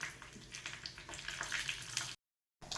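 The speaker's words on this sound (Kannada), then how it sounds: "ಚೆನ್ನಾಗಿ ಕುದಿಯುತ್ತಾ ಇದೆ" Udupi-style mango menaskai curry bubbles in a pot, with a close, soft, steady simmering hiss and burbling for a couple of seconds before a brief silence.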